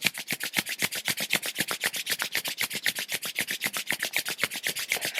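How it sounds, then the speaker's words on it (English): Hands rubbing together briskly during a beginner yoga class, a rapid steady back-and-forth swishing of skin on skin, about eight strokes per second, close and alone. "And now rub the hands together, creating more heat."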